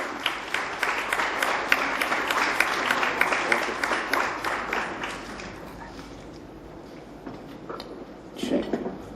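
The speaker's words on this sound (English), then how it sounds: "yet again a big round of applause for Mr. Sudhir Kakkar" A lecture audience applauds Mr. Sudhir Kakkar in a hall. The clapping is moderately loud and steady for the first half, then thins out and fades.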